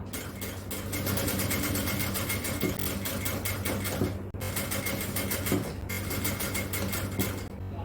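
A sewing machine runs steadily up close, stitching piping onto an XL-size jalabiya. The motor hums with a fast, even needle chatter and pauses briefly twice.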